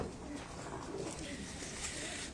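Pigeons coo softly on a rooftop loft among other birds, faint and distant under a steady wash of background noise.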